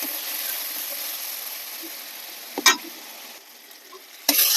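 Spice paste of black pepper powder, cumin powder, turmeric, a little sugar and water is stir-fried in a pan, sizzling steadily under two sharp bursts of spatula scraping, close and fairly clear, with no voices.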